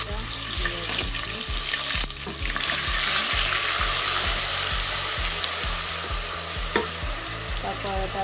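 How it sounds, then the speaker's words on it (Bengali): Onion paste fries in oil where garlic has been browned, sizzling steadily while a spoon stirs and scrapes the pan in a repeated rhythm, close and fairly loud. "এখন আমি অনিয়ন পেস্টটা দিয়ে দিচ্ছি।"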